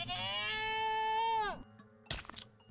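Goats in the video game Minecraft give a long, loud, wavering bleat that dies away, then a shorter, harsher bleat follows after a brief pause.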